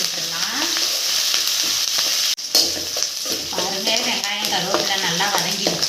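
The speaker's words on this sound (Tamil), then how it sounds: "வெங்காயம் கருவேப்பிலை போட்டுட்டு நல்லா வதக்கி" Shallots and curry leaves sautéing in hot oil for a coconut-milk fish curry, a steady close sizzle and crackle with stirring scrapes throughout, briefly cut off midway before resuming louder.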